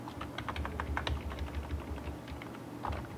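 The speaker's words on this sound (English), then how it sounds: "We can write through the keyboard" Rapid, quiet typing on a computer keyboard, with a dense run of soft key clicks at a steady pace over a low background hum and no voices.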